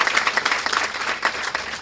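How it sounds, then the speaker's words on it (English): An audience at a dedication and ribbon-cutting ceremony gives a warm round of applause, a close, busy patter of many hands that holds steady for the whole short burst. "Yes, big round of applause for a big family."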